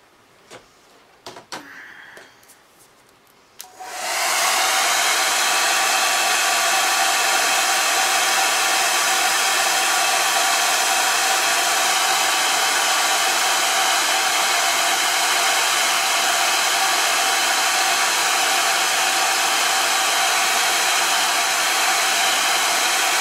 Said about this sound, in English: I am going to get a hairdryer on this.